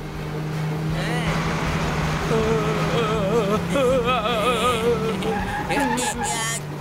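A cartoon car drives with a steady engine drone and swooping, wavering tones, loud and continuous, while a character talks over it.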